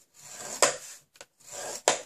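Paper being scored on a scoring board for a purse-shaped mini album, two long rubbing strokes each ending in a sharp tap, close and clear with no talk.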